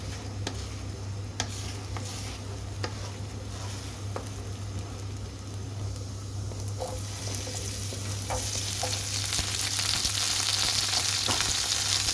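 Scrambled eggs with onion and ginger fry in a pan with a steady, close sizzle and crackle that grows louder toward the end, with occasional stirring clicks.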